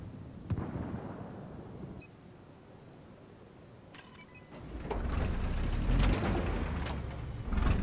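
Booming Battlefield 4 rocket launcher (RPG) explosions with a low rumble, several blasts scattered through the clip and growing louder and denser toward the end.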